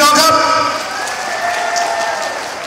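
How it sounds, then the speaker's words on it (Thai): Applause from a large crowd of business people at an anniversary celebration, dense clapping that starts loud and tapers slightly, with a voice speaking over it. "ปรบมือให้กับทุกท่านที่ประสบความสำเร็จวันนี้นะครับพี่น้องครับ"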